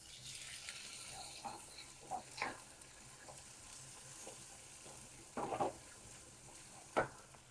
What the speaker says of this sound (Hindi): प्याज बिल्कुल बढ़िया भून चुका है मेरा, और अब हम टमाटर डालेंगे